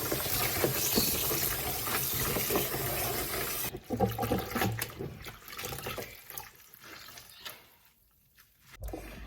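Vegetables being rinsed for a Thai sour vegetable dish, with continuous close splashing and running water, then softer, broken swishes and drips as the rinsing slows.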